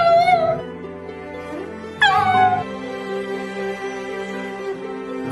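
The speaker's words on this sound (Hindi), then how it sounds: "उसके बाद वो कुत्ता बहुत ज्यादा रोने लगा" A dog cries and whimpers in a run of high, wavering whines that rise and fall, fairly close and loud, with short pauses between the drawn-out cries.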